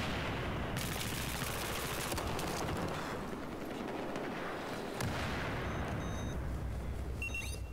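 Continuous gunfire and explosions in a Battlefield 4 match on Operation Locker, fairly faint overall, with rapid automatic bursts and booming blasts running steadily throughout.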